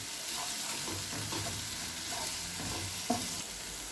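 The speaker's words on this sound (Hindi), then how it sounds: "अब इसमें अदरक लहसुन का पेस्ट डाल देंगे, उसे भी 1-2 मिनट के लिए भून लेंगे।" Ginger garlic paste fries in a pan for Punjabi chole, making a constant, even sizzle with soft stirring scrapes and one sharper knock near the end.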